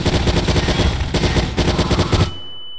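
Rapid automatic gunfire rattles in Garry's Mod, a loud continuous burst of closely spaced shots that stops abruptly, leaving a thin ringing tone.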